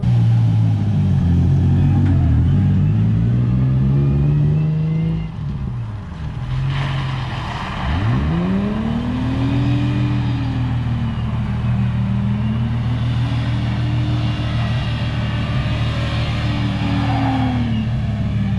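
Cars drifting on a wet track at a drift academy, engines droning and revving in sweeping rises and falls as they slide, a continuous loud motor roar throughout.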